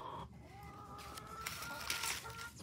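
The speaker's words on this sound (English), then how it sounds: "I'll show you all our chickens" Chickens cluck and murmur inside a walk-in chicken run built from pallets, soft drawn-out calls from several hens overlapping at moderate distance in an otherwise quiet yard.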